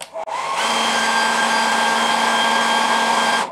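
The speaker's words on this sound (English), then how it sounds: "I'm going to use hair dryer here." A hair dryer switches on after a brief click and blows steadily with a loud, constant whine and rushing air, heating a speaker's metal grill, then cuts off.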